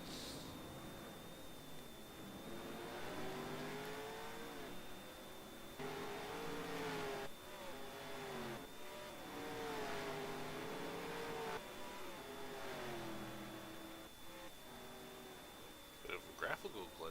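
Race cars in a NASCAR-style sim racing league run flat out down a long straightaway at Yas Marina, engines droning steadily with rising pitch sweeps as they accelerate, continuous under a commentator's voice.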